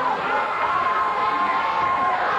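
A pro wrestling arena crowd roars steadily during a tag-team match, a dense wall of cheering and shouting with some higher yells rising above it, sustained throughout.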